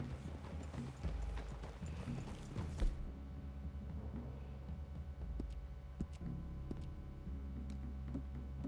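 Horse hooves clip-clopping in the video game Red Dead Redemption 2, a steady walking rhythm of soft thuds with a few sharper clicks, heard alone over a low ambient hum.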